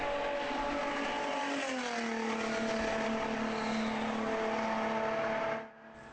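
A car speeding during a police chase roars with a loud, sustained engine drone that shifts pitch as it accelerates, then cuts off abruptly near the end.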